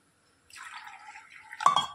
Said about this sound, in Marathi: इथे मी 1 ग्लास पाणी आणि आणखीन थोडंसं पाणी त्यामध्ये टाकणार आहे शिजवायला